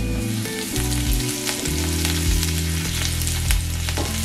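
Cumin seeds fry in hot coconut oil as a tempering, a steady close crackling sizzle with brief stirring scrapes, with no voices.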